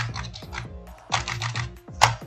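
Code being typed on a computer keyboard, with close, crisp key clicks in quick bursts, a short pause, then another run and a final harder keystroke.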